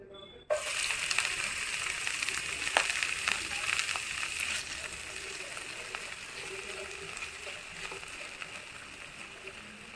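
Vegetables sizzle in about two spoonfuls of oil in a pan for a vegetable roll, a steady close crackling hiss with scattered pops that sets in abruptly and continues evenly.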